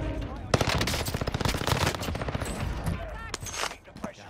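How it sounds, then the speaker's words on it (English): Rapid automatic video game gunfire rattles loud and close in a sustained burst, tapering into scattered single shots, with a voice talking over it. "someone in here, mate, shooting at me"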